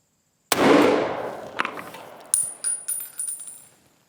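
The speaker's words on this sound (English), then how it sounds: "I think I know where that shot went" One loud, sharp gunshot from a Remington 742 deer rifle firing 150 grain Winchester ammunition outdoors, a sudden blast followed by a long fading echo, then a few lighter metallic clinks and knocks.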